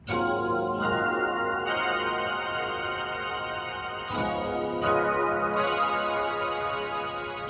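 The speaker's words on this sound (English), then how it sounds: "I think it's called a bell strings or something like that, or it's some kind of pad" A Yamaha P-125B digital piano plays a bell strings pad voice: sustained, shimmering bell-like chords ring out, layered and held, with a new chord struck around the middle, alone without talk.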